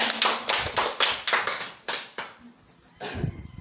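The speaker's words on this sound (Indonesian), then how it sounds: "tepuk tangan dulu untuk kita semua" A group of teachers claps together for one another during a school workshop on positive school culture. The claps come in short rhythmic bursts, close and fairly loud, then stop briefly before another clap and a faint voice.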